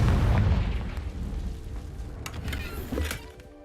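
A Confringo spell explosion in a Harry Potter wizarding video game: a deep rumbling blast that decays slowly, with a few sharp crackling pops following near the end.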